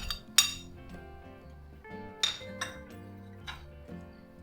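A spoon mixes chicken with coriander leaves, a pinch of salt and chilli flakes in a bowl for a mini chicken cup pizza filling. A few sharp, scattered clinks ring out over soft background music.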